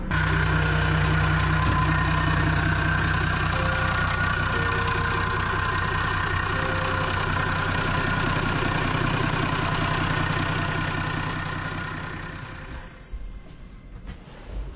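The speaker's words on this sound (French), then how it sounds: "La commande du moteur Perkins M135" A Perkins M135 marine diesel engine on a Herreshoff Caribbean 50 ketch runs steadily with a loud, low, rumbling drone and constant mechanical knocking, then quiets and drops away near the end.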